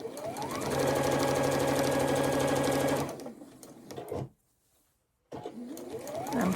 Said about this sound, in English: I'm trying to sew on the blue line.